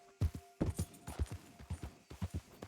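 Horse hooves clip-clopping in Red Dead Redemption 2, a brisk rhythmic series of sharp hoof strikes, evenly paced, with a brief pause near the start and after two seconds.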